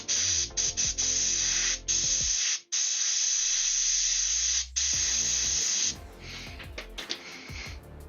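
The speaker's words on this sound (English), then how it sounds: "just a bit of air from the airbrush" An airbrush hisses out bursts of air while a miniature is being painted, several steady sprays broken by short pauses, close and loud with no talking.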